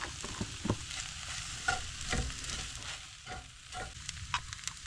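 White beans and rice tossed into a hot pan, crackling in a steady sizzle with a few stirring scrapes and clatters, close by and with no talking.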